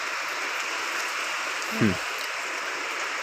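Rain falls outdoors as a steady, even hiss of moderate loudness that runs unbroken throughout, with a single brief low thud partway through.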